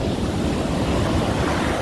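Ocean surf breaks steadily on a sandy beach, a continuous loud wash of waves mixed with wind rumbling against the microphone, with no voices.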